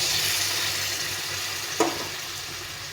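Frying pumpkin in a pan hisses with a broad, steady sizzle that fades slightly as water is added, with one brief splash-like burst near the end.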